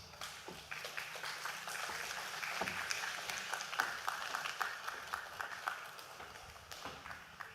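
An audience applauds steadily after a speech at a public policy event on child outcomes in Jamaica, dense clapping sustained at moderate distance throughout.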